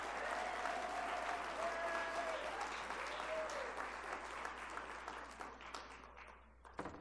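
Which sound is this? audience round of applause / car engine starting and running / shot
audience round of applause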